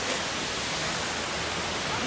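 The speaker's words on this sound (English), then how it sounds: "that's Drang waterfall." Drang waterfall near Tangmarg in Kashmir in winter, heard as a steady, dense roar of rushing water that fills the whole clip without a break.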